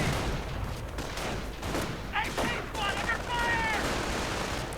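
Gunfire and anti-tank gun shots in a World War II strategy game battle, dense rattling bursts and booms layered under a commentator's continuous talk.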